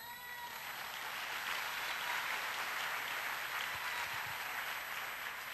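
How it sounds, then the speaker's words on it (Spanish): A large audience at an annual Catholic leaders' and servants' congress applauds. Dense, steady clapping is sustained and loud throughout, with no voices over it. "Otro aplauso."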